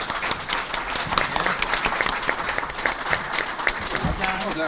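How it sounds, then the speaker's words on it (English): A town election candidate forum audience applauds the candidates, a dense, steady patter of clapping from a roomful of people heard at moderate distance, lasting a few seconds before thinning out. "Can we give a round of applause to the candidates?"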